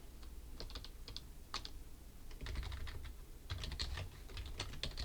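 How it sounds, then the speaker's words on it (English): Typing on a computer keyboard during a computer science lecture: quick irregular clicks of keystrokes, sparse at first and then a faster run of taps, close and fairly quiet. "we can start typing our own stuff, like hello world 1 2 3"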